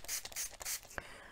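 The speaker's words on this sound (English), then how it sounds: "I am going to clean my brush now just by spraying some water into some" A small spray bottle spritzes water onto a kitchen towel to clean a paintbrush, three quick hissing squirts in a row, close and soft, followed by a faint tap.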